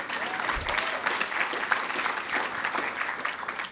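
An award show audience applauds, dense steady clapping that fills the room at moderate volume throughout, with faint voices mixed in.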